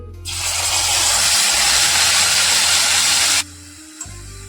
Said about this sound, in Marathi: आपण याची प्युरी करून ती तेलामध्ये छान परतून घ्यायची